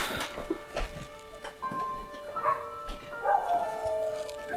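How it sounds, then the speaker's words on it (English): Dog barking repeatedly outside a cabin deep in the woods, sharp agitated barks with some yips coming in irregular bursts at moderate distance, with faint voices in the background. "Dog's barking out there. Freaking out."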